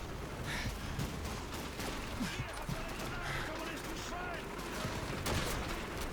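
Gunfire in the Call of Duty 2 video game, dense crackling shots and distant battle noise running continuously under the players' talk.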